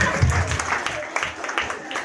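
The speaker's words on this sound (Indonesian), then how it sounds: "Kok tidak ada tepuk tangan?" Brief, scattered applause rises from a church congregation at an evangelistic mission service in Alak, Kupang, mixed with a voice over the clapping.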